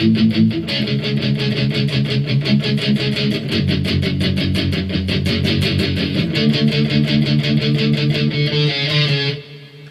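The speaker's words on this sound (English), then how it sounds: "lots of power chords and lots of palm muting." Guitar power chords, heavily palm-muted in a steady rapid chug, played for the verse, loud and distorted with occasional chord changes, stopping abruptly at the end.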